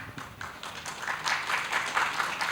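Scattered applause from an audience at a talk with Central Java's governor, rising from a few separate claps into fuller clapping, moderately loud and a little distant.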